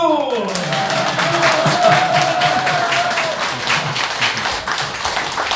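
Applause from attendees at a presidential candidacy press conference in a party headquarters in Yeouido, Seoul, a dense, continuous burst of clapping that holds steady for several seconds, with a voice trailing off at the very start.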